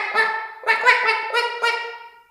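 A voice imitates a duck quacking as it swims, giving five nasal, honking quacks in uneven bursts, clear and close with nothing else around.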